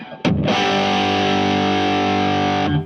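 An electric guitar played through the dirty channel of an amp rings out as one loud, sustained distorted chord after a quick pick attack, held for about two seconds before being cut off, with no talking.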